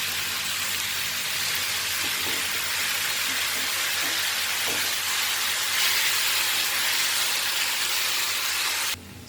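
Potatoes, green peas and tomatoes cook in a pan for aloo matar curry, giving a loud, steady sizzling hiss with no pause until it drops off abruptly at the end.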